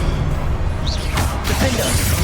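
A Confringo blasting spell cast in Hogwarts Legacy bursts out as a short, rough whoosh and crackle over steady game ambience, with faint talk nearby.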